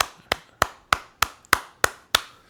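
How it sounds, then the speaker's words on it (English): Eight sharp hand claps at a steady, even pace, crisp and close, with no other sound around them. "That was me clapping for them getting the win"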